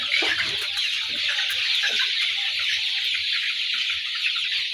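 Dense, steady clucking from many chickens fills a poultry shed, with brown and golden birds on a farm, a continuous near chorus with no voices over it.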